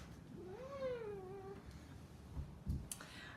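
A pet cat gives one drawn-out meow with a rising then falling pitch, close and fairly quiet, followed by a few soft clicks and rustles.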